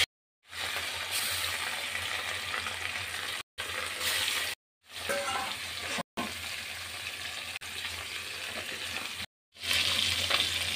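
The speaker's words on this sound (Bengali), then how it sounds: "এই তেলেই আমি বাকি মাছগুলো দিয়ে ভেজে নেব এপিট ওপিট করে।" Fish pieces fry in hot oil for a wedding-style doi katla, a close continuous crackling sizzle broken by several abrupt silent cuts, with no talk.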